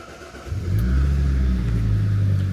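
A Fiat Coupe LE engine fires up and revs, a close, loud, steady mechanical roar that builds quickly after a brief quiet start and holds strong.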